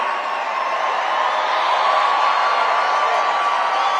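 A rally crowd at a pre-inauguration event keeps up a steady, loud roar of applause and cheering for the full span, dense and unbroken with no single voice standing out.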